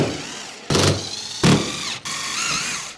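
A power driver sets screws into a roof fan mounting ring on a Ford Transit van, three loud bursts of whirring motor each lasting about half a second, separated by short pauses, close up.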